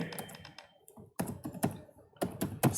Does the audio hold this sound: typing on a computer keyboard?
yes